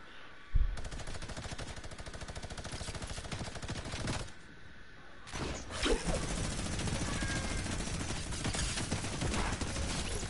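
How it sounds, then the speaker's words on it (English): A Fortnite minigun fires long, rapid buzzing bursts, loud and close, with a short pause after a few seconds before the spray resumes and continues steadily to the end. "Got one with the minigun."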